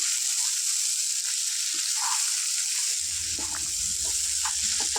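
Potato pieces frying in a pan for a potato and chana dal fry, a steady close sizzle that continues throughout with faint stirring scrapes underneath.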